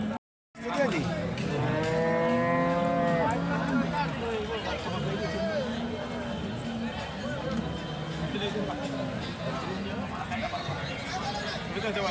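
A cow moos loudly in one long, drawn-out call at the Sangola cattle market, followed by fainter lowing amid the crowd's steady hubbub and nearby voices talking throughout.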